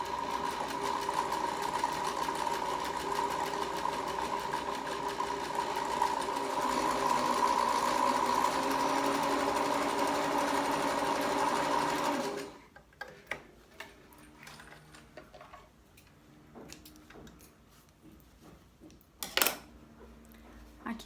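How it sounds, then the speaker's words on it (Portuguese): Domestic sewing machine running steadily for about twelve seconds while stitching a zigzag finish along fabric, a continuous loud mechanical whir with rapid ticking, then stopping and leaving faint scattered clicks and handling sounds. "Para passar o zigue-zague, a gente vai colocar o tecido bem no meio do pezinho"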